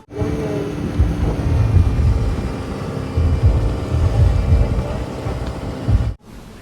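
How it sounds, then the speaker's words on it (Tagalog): Strong wind in Boracay buffets loudly and continuously, with low gusty rumbles and roaring bursts, then cuts off abruptly near the end. "lakas ng hangin"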